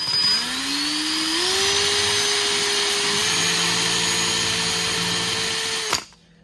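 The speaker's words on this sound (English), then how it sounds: "I'm going to drill 4 holes." A power drill whines up to speed and holds a steady high-pitched drone while boring holes in a Vance and Hines Harley exhaust ring, loud and close, then stops abruptly near the end.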